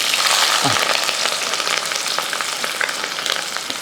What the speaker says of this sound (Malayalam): ഇഞ്ചി പച്ചമുളക് ഉള്ളി എല്ലാം കൂടെ ഒന്ന് ഇട്ട് കൊടുക്കണം